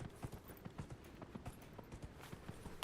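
Horse hooves gallop in Dragon Age Inquisition, a steady, rhythmic clip-clop of repeated sharp strikes held at an even, moderate level with no talking.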